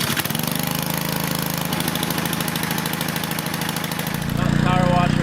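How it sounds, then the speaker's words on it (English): A gas-engine power washer runs steadily with a loud, chugging mechanical drone, its pitch shifting slightly near the end as the load changes; no talk is heard over it. "Got the power washer cranked up."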